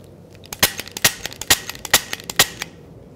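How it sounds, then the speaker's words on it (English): Shots ring out from a firearm as the shooter walks forward between cover, about a dozen sharp cracks fired in quick, slightly uneven succession over a quiet background. "shooting as I go."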